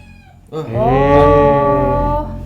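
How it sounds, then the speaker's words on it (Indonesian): A cat lets out one long, loud, drawn-out meow close to the microphone on a film set. "Ini kucing siapa sih ikut-ikutannya?"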